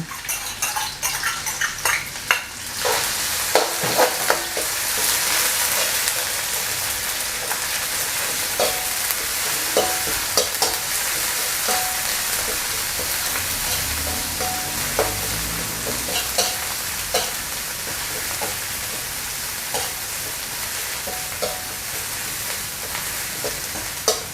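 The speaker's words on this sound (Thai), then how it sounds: "น้ำมันหมูครับ ทำพริกแกงเราผัดให้หอม" Curry paste frying in lard for stir-fried catfish, a strong steady sizzle punctuated by metal spatula scrapes and clanks against the wok, close and continuous.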